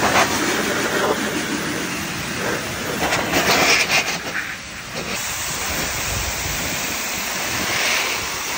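Steady loud rushing air blast from a blower drying a BMW M3 F80 after washing, with a slight wavering, continuous throughout, no voices.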